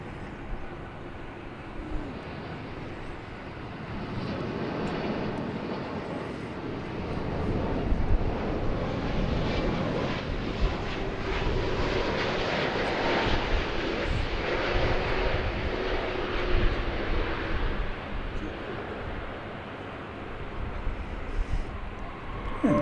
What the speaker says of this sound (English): Here comes Qantas Flight 7 to be followed by the American Airlines 777